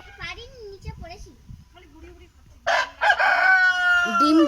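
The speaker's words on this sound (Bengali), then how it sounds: "এইখানেও মুরগি আছে, ছোটদা চাষ করেছে মুরগি।" Backyard village chickens clucking and a rooster crowing loudly nearby, with voices talking over the first half.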